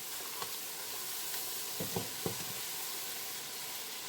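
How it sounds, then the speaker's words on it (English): Onions frying in a pot for Nigerian buka stew, giving a soft, constant sizzle with a few faint clicks and scrapes from stirring, quiet and close, with no voices. "So I will leave the onions to like kind of get brown before adding the tomato"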